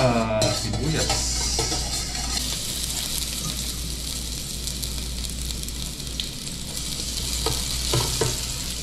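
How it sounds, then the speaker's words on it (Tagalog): Garlic and onion sauté in a pan with a steady, close sizzle and scraping stirs running throughout, a low steady hum underneath and occasional clinks of the utensil. "Magigisa lang tayo ng bawang at sibuyas."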